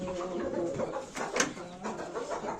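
Chickens clucking and cooing close by in a poultry yard, a brief busy burst of bird calls with a few sharper squawks and faint voices in the background.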